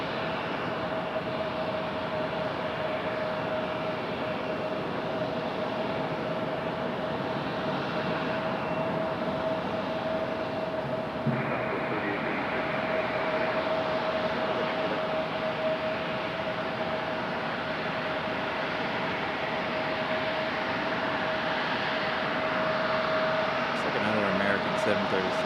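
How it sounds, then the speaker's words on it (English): Boeing 737 airliner touching down at Raleigh-Durham International, a long steady engine roar with a persistent whine, while people talk over it. "737 touching down."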